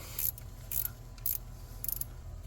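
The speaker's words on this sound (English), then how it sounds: "These extended ratchet wrenches are nice because they like to get stuff tight." An extended ratchet wrench works engine studs during an engine replacement on a 2020 Chevy Express 3500 LS van with a 6.0L engine, making three or four short bursts of quick clicking close by in a quiet space.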